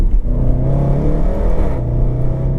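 A Range Rover SVR engine revs steadily at half throttle, a loud, continuous, close-up growl with rising harmonic tones and no speech.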